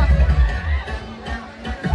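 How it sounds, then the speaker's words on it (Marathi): A dense crowd murmurs and shuffles at the Mahalaxmi fair in Dahanu, a steady near babble of many voices with low rumbling undertones throughout. "खूपच गर्दी महालक्ष्मीच्या यात्रेत."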